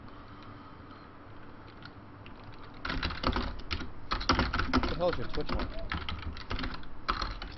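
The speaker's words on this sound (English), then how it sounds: "Apologize for the typing. My mic is like right next to my keyboard." Rapid computer-keyboard typing right beside the mic, loud and close, in dense clattering bursts after a quieter opening, with someone speaking briefly over it.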